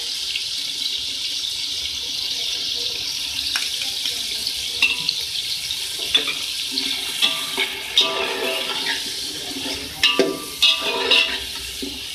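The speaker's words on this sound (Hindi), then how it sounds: "तो मिक्स कर लें" Tomatoes with red chili powder are stirred in a pan, giving a quiet steady sizzle broken by scattered scraping and clinking knocks of the spoon, growing more frequent toward the end.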